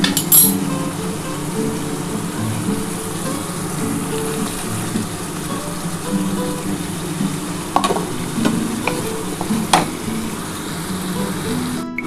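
Paneer frying in a pan for palak paneer, a steady sizzle throughout with occasional clinks and scrapes of stirring, most noticeable toward the end.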